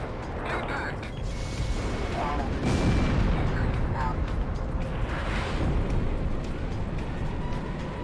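A missile slams into its target in a video game, a loud, rumbling explosion swelling near the middle and rolling on with a second burst, set against constant dense battle noise.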